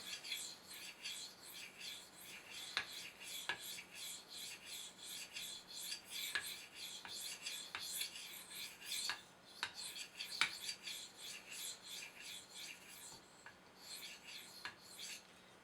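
A knife is sharpened on a slick polishing stone with quiet, close, steady back-and-forth rasping strokes and faint scraping clicks between passes.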